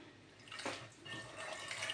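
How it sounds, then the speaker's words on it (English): Dissolved limestone water poured into a pot of achu soup, a soft splashing trickle that builds and continues steadily, close by with no talking. "So I'm putting the limestone and then mixing it as well."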